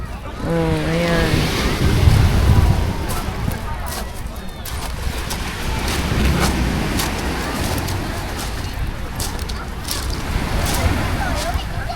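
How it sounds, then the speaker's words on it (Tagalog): Waves wash and break along a shore in a continuous surging roar, with wind and a voice talking over it in places. "nakaka-relax yung hampas ng alon talaga"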